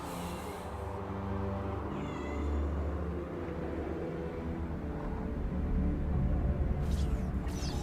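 A cat at a door gives a few drawn-out meows over a constant low hum of background noise, fairly faint and at a little distance.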